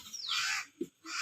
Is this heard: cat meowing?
no